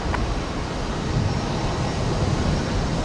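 A Boeing 747 passes low overhead at Brisbane Airport, producing a continuous broad engine roar that stays loud and steady throughout, with no voices.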